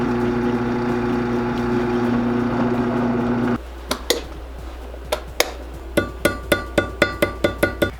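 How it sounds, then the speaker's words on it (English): A drill press bores a hole through the side of a handmade anniversary gift, its steady motor hum cutting out partway before a run of sharp, evenly spaced taps and clicks that grow quicker toward the end. "I need to make a hole right here in this side, so we're going to use the drill press."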